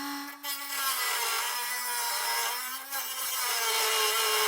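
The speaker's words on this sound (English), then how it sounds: "So for this instance, I am going to use my Dremel." A Dremel rotary tool with a cutting wheel whines and grinds steadily at close range as it enlarges a hole in the frame of a 2024 GMC Terrain during a trailer hitch installation, its pitch wavering slightly under load.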